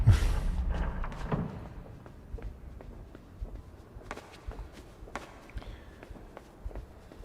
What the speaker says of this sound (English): you can hear the footsteps of the people we're eventually going to see, and there's that heartbeat in the background as well